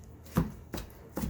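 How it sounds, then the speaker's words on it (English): A knife chops a diced onion on a cutting board for pico de gallo, three soft evenly spaced thuds, close and quiet. "It'll be at least another like 15 minutes of chopping."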